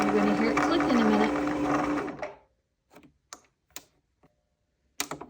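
A PooLin EOC02 sewing machine runs at speed winding a bobbin under foot-pedal control, a loud steady whirring motor that stops abruptly, followed by a few sharp clicks and taps in near silence.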